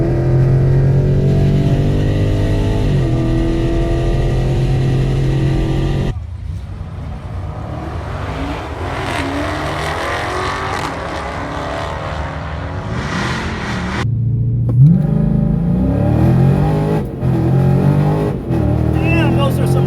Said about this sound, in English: those are some hard shifts